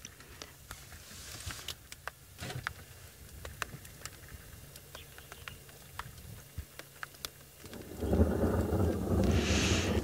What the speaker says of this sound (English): Jackie says she loves hearing the rolling of the thunder.